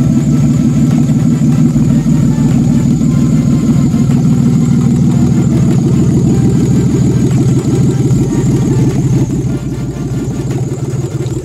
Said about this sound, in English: I've started it up and it seems to be idling a lot smoother